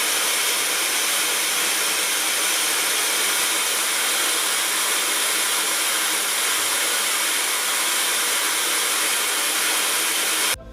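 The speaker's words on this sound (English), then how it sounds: "So this hair dryer is not very loud." A Laifen Swift hair dryer runs steadily for about ten seconds, a loud, even broadband whoosh of motor and airflow that cuts off abruptly at the very end, with no talking.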